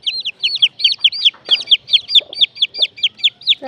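A four-legged baby chick in a chicken coop gives a rapid run of high, shrill peeps at an even pulse, loud and close, with faint low rustling beneath.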